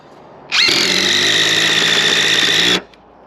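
A power drill drives a screw during a solar panel installation, one steady high-pitched whine of about two seconds, close and loud, starting and stopping abruptly.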